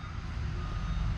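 A truck pulling up at a shop, a low steady engine rumble nearby for a brief moment.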